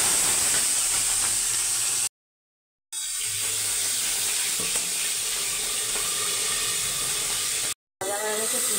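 Prawns frying in hot oil in a kadai, a steady broadband hiss and sizzle that runs loud and continuous, broken by two short silent gaps.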